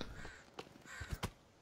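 In the survival video game The Forest, a crow caws a few times in quick, short bursts, fairly faint against a steady hiss of background ambience, with no talk over it.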